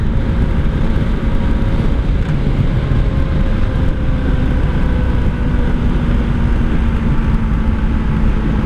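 A 1984 Honda V65 Sabre VF1100S motorcycle cruises along back roads, its engine a steady, loud drone blended with constant wind rush that holds throughout without letting up.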